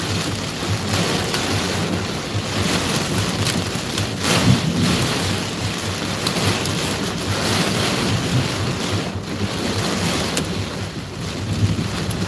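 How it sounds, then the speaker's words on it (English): Hail pelts a car during a severe supercell storm in Mississippi, making a loud, dense drumming that runs unbroken for about twelve seconds, with a few sharper knocks and gusts of wind noise against the microphone. "you can probably hear the hail hitting the car"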